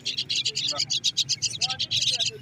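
A Kandahari mynah at an outdoor bird market gives rapid, repeated shrill chirps and whistles, steady and close, over a low crowd murmur with people talking nearby.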